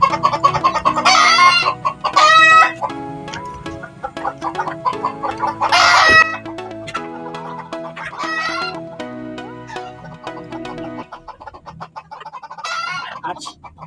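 Several hens cluck and squawk around a nesting box as they compete over a laying spot, with loud bursts of clucking, a rooster crowing nearby and bird calls overlapping throughout.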